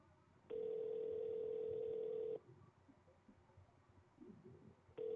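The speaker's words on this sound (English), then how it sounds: "Pick up the phone, Larry." An unanswered telephone rings in the video game Sally Face: one long, steady electronic ring tone, then a quiet pause, with the next ring just starting at the end.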